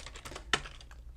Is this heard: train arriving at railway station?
no